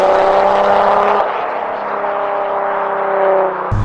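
Diesel-swapped Nissan GT-R driving, a loud, steady engine drone with harmonic whine that shifts in pitch as it changes load, cut off abruptly near the end.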